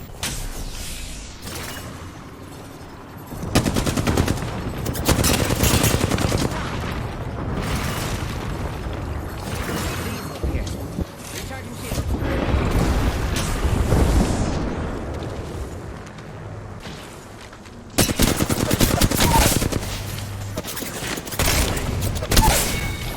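Gunfire and explosions in the video game Apex Legends, with dense bursts of shots and booms in several loud waves and quieter gaps between them, no voices heard.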